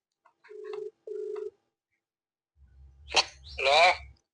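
Two short ringback tones sound during an outgoing phone call, clear and evenly spaced, followed by a pause and then a voice speaking.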